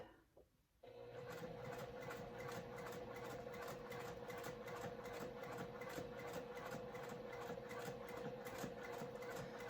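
A sewing machine stitches in a fast, steady mechanical whir, its needle chattering evenly and close up after a brief quiet start.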